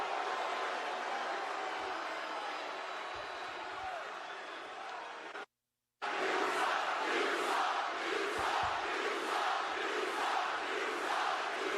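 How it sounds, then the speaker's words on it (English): A wrestling arena crowd roars and chants during a live WWE SmackDown show, loud and rhythmic after a brief dropout in the middle, with voices layered over the noise. "There you go, the You Suck chants are live. Live and loud."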